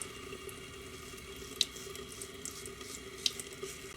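Tap water runs steadily into a bathroom sink as it fills for shaving, a soft continuous hiss at low level broken by a couple of small splashes or clinks.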